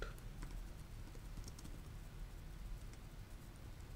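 Code is typed on a computer keyboard in a quiet room, with faint, quick, irregular key clicks against a low background hum.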